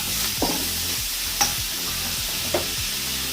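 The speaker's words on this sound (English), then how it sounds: "our wok is smoking, so we just want to sizzle it all around" Fried rice ingredients sizzle steadily in a smoking-hot wok, with three sharp scraping stir strokes cutting through the constant close frying hiss.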